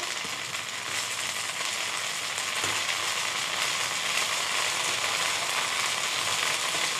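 Polenta fingers frying in butter in a pan, a steady, fairly quiet sizzle that holds evenly from start to finish, with one faint clink partway through.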